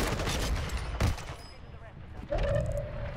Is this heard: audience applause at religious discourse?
no